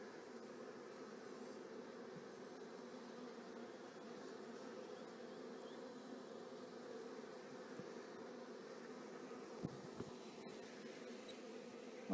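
Honey bees hum around an open hive during an inspection, a steady, soft, continuous buzzing drone from many insects close by, with a couple of brief small knocks near the end.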